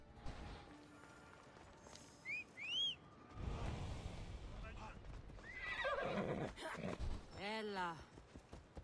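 A horse in Assassin's Creed Odyssey gives several sharp rising whinnies, the clearest near the end, over clip-clop hooves and game ambience, while someone talks in between.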